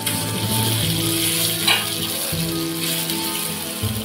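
Water chestnuts fry steadily in a hot pan, a continuous close sizzle with a faint clink or stir near the middle, no talking.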